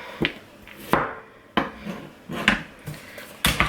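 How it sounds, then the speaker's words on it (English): Potatoes for chicken soup are cut on a board in a kitchen, with about six sharp knocks of a knife striking the wood at irregular intervals, close and fairly loud. "So these potatoes are a little bit big. We're gonna go back and"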